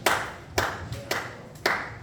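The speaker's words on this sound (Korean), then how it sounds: "앞으로 나올 때 박수로 우리 친구 생일 축하드립니다." Four sharp, separate claps ring out in a slow, even rhythm, close and distinct, marking a birthday celebration during a church youth service.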